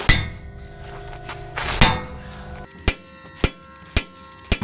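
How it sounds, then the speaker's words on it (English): Sledgehammer striking a 2-inch steel dowel to drive a pin out of a hydraulic ram: sharp metallic clangs with ringing tails, two spaced blows then four evenly timed hits, loud and close with no talking. "I'm taking the sledge and hitting it through here like this"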